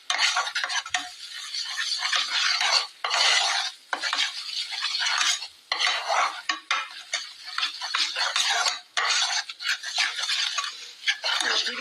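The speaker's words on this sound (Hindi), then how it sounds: "5 से 10 मिनट हो गए हैं मुझे इस आटे को भूनते हुए" Atta flour stirred and roasted in a pan for panjiri, a dense, continuous scraping and rustling of a spoon working dry flour against the metal with brief pauses between strokes, close and fairly loud, with no talking.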